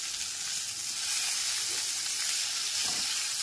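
Tomatoes with salt being stirred in a frying pan, a steady bright hiss of sizzling with soft scraping underneath, close and continuous, no talking.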